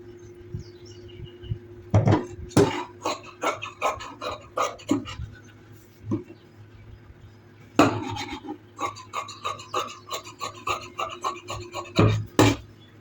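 Scissors cut green fabric for sewing in bursts of crisp, close snipping and rasping strokes separated by short pauses, over a low steady hum.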